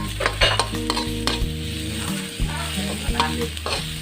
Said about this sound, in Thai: ผัดให้มันหอมๆก่อนครับผม